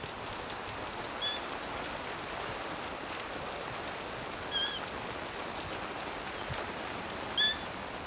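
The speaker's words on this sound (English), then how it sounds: "Water falling from the sky, and so cold." Steady broadband hiss of rain falling outdoors in Ugandan bush, a continuous even patter with no voices, broken only by a few faint, brief high bird chirps.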